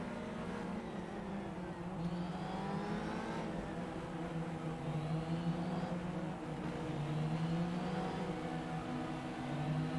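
A Ferrari 360 Modena's engine in GTR revs and drones throughout, its pitch rising and falling through gear changes at a fairly quiet, steady level.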